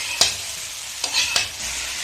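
Urad (kalai) dal frying in a pan for a jackfruit curry, with a steady oily sizzle broken by a few sharp scrapes of a spoon as it is stirred.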